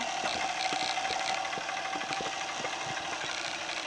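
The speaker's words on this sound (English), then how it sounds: "2007 Dodge Ram Mega Cab Diesel." A 2007 Dodge Ram 2500 Mega Cab diesel pickup idles with a steady, low rumble and a fine, irregular ticking knock, heard close and alone.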